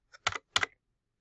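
A few quick keystrokes on a computer keyboard, two short clustered bursts of clicking in a quiet room while a URL is entered.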